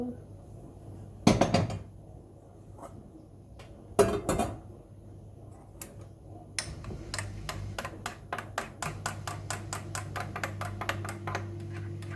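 Boiled water is stirred in a pot to make coffee in a kitchen. A few scattered metallic clatters come first, then a quick run of light, rhythmic spoon clinks against the pot.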